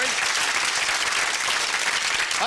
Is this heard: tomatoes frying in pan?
no